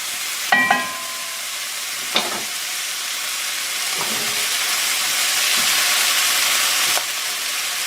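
Goulash ingredients frying in a pot and being stirred, with a loud continuous sizzle and hiss and a few sharp scraping stirs early on.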